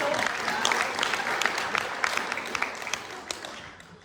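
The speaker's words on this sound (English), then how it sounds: "So even bigger round of applause for him." Audience applause rises at a monoacting theatre festival, a dense, steady clatter of many hands clapping that gradually fades toward the end.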